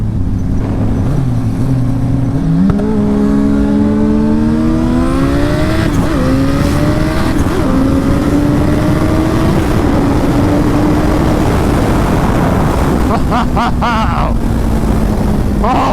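Turbocharged Suzuki Hayabusa motorcycle pulling hard in first gear, a loud close engine whine rising steadily in pitch as it accelerates, then a sharp shift with rapid fluttering bursts near the end.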